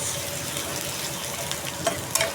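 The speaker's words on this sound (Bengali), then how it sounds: "কচু শাকটা ভাজি করবো এখন। দিয়ে দিলাম শুকনা মরিচ" Dried chillies sizzling in hot oil at the start of frying taro leaves, a steady soft crackle with a couple of sharper pops near the end.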